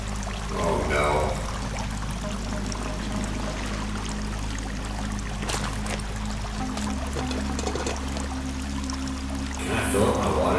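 Water flows steadily inside a cave in the video game Sons of the Forest, a constant pouring rush under a low rumbling game ambience that shifts partway through.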